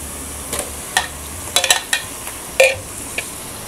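Chicken mince frying and being stirred in a pan for Bangladeshi hotel-style chana dal, with faint sizzling under a few sharp scrapes and clinks of a spoon against the pan.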